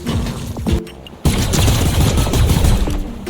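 Fortnite gunfire comes as a dense, loud burst of rapid shots, a few scattered reports, then a brief gap and a sustained close-up fusillade to the end.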